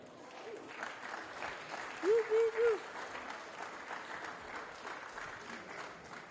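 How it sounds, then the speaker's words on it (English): Faint applause rises from an audience as speakers jog onto a stage, a soft, distant wash of clapping with a brief sung or hummed tone poking through midway. "I can have a massive round of applause as we welcome on stage our speakers"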